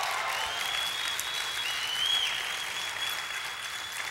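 A church congregation applauds loudly and steadily, a dense wash of many hands clapping together for several seconds with a faint sustained tone over it and no clear speech.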